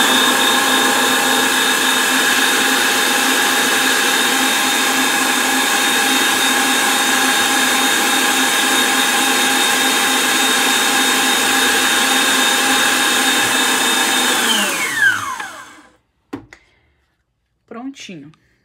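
Electric mixer whirring steadily at high speed through a creamy chocolate mixture, loud and continuous, winding down near the end, followed by a few clinks.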